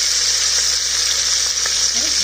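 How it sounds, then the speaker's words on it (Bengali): A fish head fries in oil inside a pressure cooker over low gas, giving a loud, continuous sizzle with faint stirring and bubbling, close and steady throughout. "গ্যাসটা আমি মোটামুটি লোয়ের দিকে রেখে মাথাটা ভাজছি"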